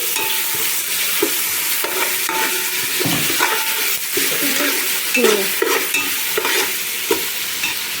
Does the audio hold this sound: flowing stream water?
no